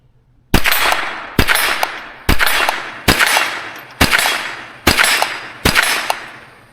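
Seven rifle shots fired at a target 30 yards away, evenly spaced loud cracks, each followed by a short ringing decay, with no speech.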